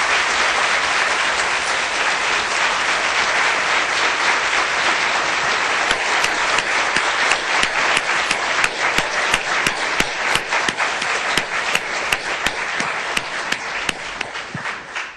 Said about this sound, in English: can we have a round of applause for what really was a terrific set of arguments?